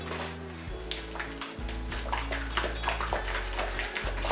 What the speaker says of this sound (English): We're going to give that a little bit of shaking again.